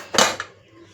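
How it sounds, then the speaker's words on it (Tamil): A metal pressure cooker lid is lifted off in one short clatter of metal on metal, a quick bright clank close by, then quiet. "இப்போ மூடியை திறந்து பார்ப்போம்."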